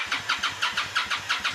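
A big motorcycle engine cranks and sputters in a quick, even pulsing rhythm, loud and close, with about eight regular chugs over a moment and no voices.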